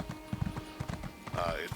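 Horse hooves clip-clop steadily in the game Elder Scrolls Online, mixed with game sounds and a brief neigh-like tone, while someone talks over them.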